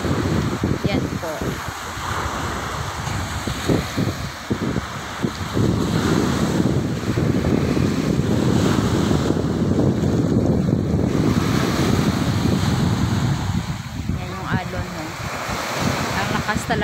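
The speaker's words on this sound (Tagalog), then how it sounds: "Kapag malakas yung alon at saka yung hangin." Strong ocean waves and gusting wind by the sea, a loud continuous roar of surf with heavy wind buffeting the microphone throughout.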